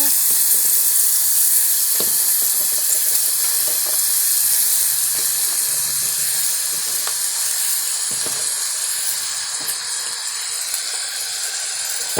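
Bottle gourd hits a hot pan and sizzles steadily, a dense, bright hiss of frying that holds for the whole stretch with occasional small pops and clinks.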